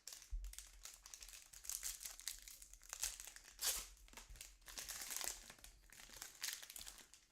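Topps Chrome jumbo card packs being ripped open up close, with quiet bursts of crinkling foil wrapper and tearing in an irregular rhythm.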